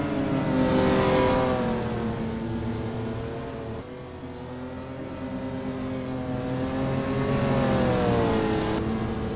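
A race car at Belle Isle roars past on the track during an ASRA National Championship race at the Detroit Grand Prix, its engine loud and sustained with rising and falling revs, close by and continuous with no talk.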